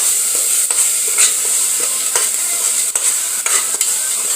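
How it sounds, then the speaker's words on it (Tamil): Masala sautéed and stirred in a pan for a chicken, potato and drumstick salna: a loud steady sizzle fills the clip, broken by repeated scrapes of a spoon stirring against the pan, close up with no voices. "போட்டு நல்லா வதக்குங்க"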